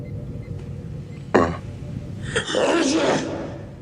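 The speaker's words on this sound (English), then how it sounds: "Klingon sneeze." A single sharp sneeze bursts out, followed by a longer breathy, throaty exhale, close to the listener.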